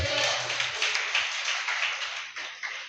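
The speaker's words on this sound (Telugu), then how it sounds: "చప్పట్లు కొట్టి గట్టిగా చెప్పండి." A church congregation clapping loudly, a dense continuous patter of many hands over a few seconds, with a low voice briefly underneath at the start.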